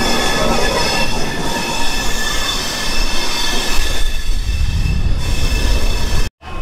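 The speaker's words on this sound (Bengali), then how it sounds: "ট্রেনটা এতক্ষণ আমাদের এই ডিরেকশনে চলছিল, এখন ইঞ্জিন চেঞ্জ করে এই ডিরেকশনে চলছে।" The Coromandel Express passenger train rolls along with a loud, steady roar of wheels on rails, faint squealing and rhythmic clatter, continuous and close throughout, ending in an abrupt cutoff.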